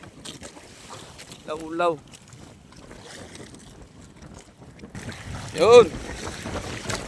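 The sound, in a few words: strong northeast monsoon wind on a fishing boat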